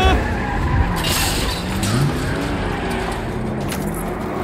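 Car chase in the Spider-Man 2 video game: steady loud engine roar with a rising whine and tire squeal layered over continuous road rush, no pauses throughout.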